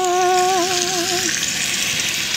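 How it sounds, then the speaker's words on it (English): Bacon sizzling and frying in a pan, a steady close hiss with a few brief tonal squeals in the first second, continuous throughout with no talking. "I'm making bacon."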